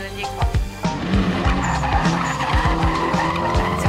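A car drifting through a competition run: loud, repeated engine revs and bursts of screeching tire squeal, close and continuous throughout.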